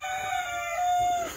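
A rooster gives a single clear, fairly close cock-a-doodle-doo crow, sustained for just over a second with no talk over it.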